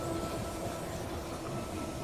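A train pulling into a station in the survival strategy game They Are Billions, heard as a steady, loud low rumble of rolling rail cars with broadband hiss, continuous for about two seconds with no talk.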